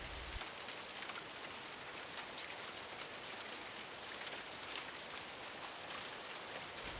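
Steady rain falls and patters evenly on surfaces as a continuous, unbroken hiss, with no voices.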